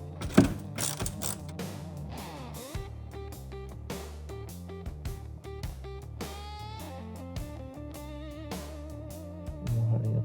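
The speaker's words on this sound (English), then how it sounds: "So we're going to start with an 8mm socket," Ratcheting clicks from an 8mm socket ratchet loosening the front bumper bolts on a BMW 328i F30, with quick metallic bursts and gear-like ticking that repeat up close, mixed with tonal mechanical resonances.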